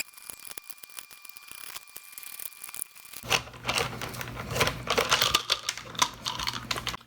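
Torx screws come out of a Dyson V6 Slim cordless vacuum's gasketed shroud, heard as close, quiet clicks, ticks and small scraping handling noises, busier in the second half.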